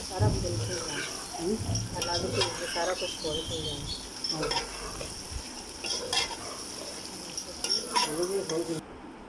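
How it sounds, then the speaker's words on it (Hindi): Chicken that has already been used for yakhni stock is fried and stirred in a pot for white chicken pulao, giving a steady sizzle with repeated spoon scrapes and clinks against the metal throughout. "अब मैं इसमें डालूँगी चिकन जिसकी हमने यखनी निकाल ली थी। इसको हम अच्छी तरह से इसमें फ्राई करेंगे।"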